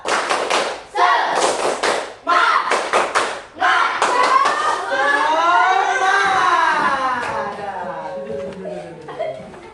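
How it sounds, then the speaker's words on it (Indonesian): Schoolchildren in a classroom clap several quick rhythmic bursts in unison, then break into a loud group chant, with some chuckling. "Kita ulang satu kali lagi. Tepuk semangat."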